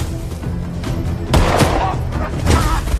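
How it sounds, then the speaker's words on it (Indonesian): Gunfire rings out in a shootout scene from the film Red Rig, with a heavy bang midway and another burst near the end amid a busy, loud action mix. "Cash pun berusaha mengejar satu orang yang kabur dan dia berhasil menembak kakinya"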